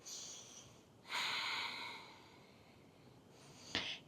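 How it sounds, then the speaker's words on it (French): Long, deep nasal breaths during a yoga flow, a slow inhale swelling in and fading, then a short sharp sniff near the end, quiet and close with no speech. "On prend 5 longues respirations."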